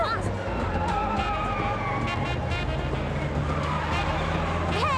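Cars roaring and tyres screeching in an action-movie chase, engines loud and continuous with rising whines, while people shout over the din.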